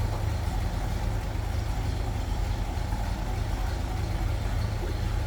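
A 1954 Ford F100 step side pickup idles on its rebuilt 292 Y-block V8, bored 30 over. The engine gives a steady, low, even rumble throughout, with no talk.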